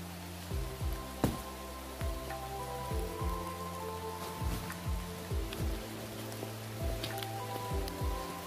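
Rain falling steadily outdoors, a continuous soft patter with occasional heavier drops, close and moderately loud, with no talking.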